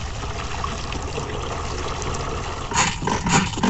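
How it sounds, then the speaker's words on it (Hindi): Water pours into a container outdoors in rural Bihar, a continuous close splashing rush with a few heavier gushes near the end, with no talking. "अब इसमें डालेंगे पानी।"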